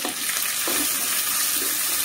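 Onions sizzle and fry steadily in a pan for a ridge gourd and soya granule curry, a continuous loud hiss with faint stirring scrapes and no talking.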